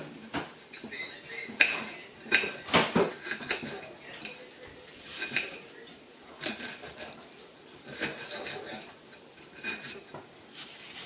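Onions being cut in a home kitchen, heard as soft, irregular knife taps and light clatter on a board, faint and scattered throughout.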